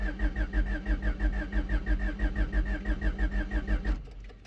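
A 1989 Honda Prelude engine cranks on the starter with a rapid, rhythmic chugging that goes on for about four seconds without catching. Then it stops abruptly into near silence.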